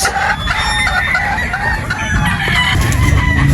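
Boston Roundhead pullet chickens cluck and crow steadily up close, the calls overlapping through a busy farmyard murmur with no talking.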